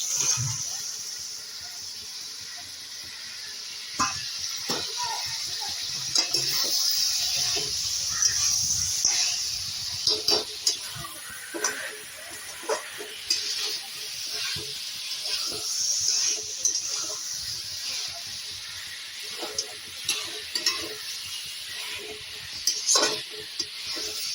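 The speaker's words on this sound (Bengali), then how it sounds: "মশলা কষা হয়ে গেছে, দেখুন তেল ছেড়ে দিয়েছি, ভালো কালারও এসেছে। আমি চিকেন ভাজাটা দিয়ে দিচ্ছি।" Oil sizzling steadily in a pan as fried chicken is added to cooked spiced masala, with occasional scraping and stirring clatters, close and continuous, with no talking.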